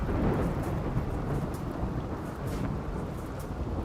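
Rain pours steadily with a deep rumble of thunder in the video game Rimworld, a dense continuous wash of noise from start to end with no voices.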